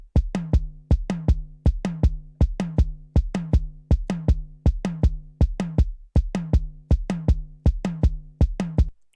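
A steady, driving riddim drum pattern of evenly spaced, punchy hits, low kick thumps locked with resonant tom strikes, loud and close, no voices.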